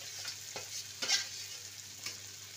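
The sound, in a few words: fried soy mince being stirred and sautéed in a pan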